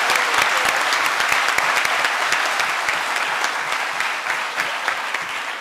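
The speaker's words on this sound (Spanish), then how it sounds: "Yo creo que usted merece un aplauso muy importante." An audience at a government event on nutritional security, with the Colombian president present, applauds warmly. The clapping is loud and sustained and fades slightly toward the end.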